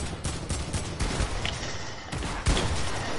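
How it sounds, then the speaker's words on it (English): Rapid AK rifle fire in a video game, quick bursts of sharp shots in uneven clusters, close and fairly loud, with brief gaps between volleys. "I'm gonna use my AK."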